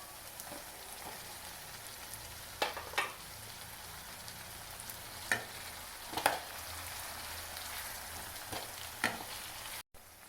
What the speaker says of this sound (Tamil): அந்த கத்திரிக்காய் இந்த எண்ணெயிலே நல்லா வெந்து வந்துடணும்